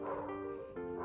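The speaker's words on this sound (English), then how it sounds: "if you can hear my dog barking in the background" A pet dog barks and yelps in the background of a home computer-setup room, with two short, tonal bursts at moderate distance.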